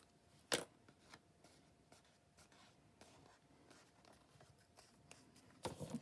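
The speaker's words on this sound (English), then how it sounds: "I think we need to trim this just a little bit." A paper card booklet is trimmed with scissors in a quiet craft setting. There are faint snips and paper rustles, a sharper cut near the start and a burst of handling at the end, with no talking.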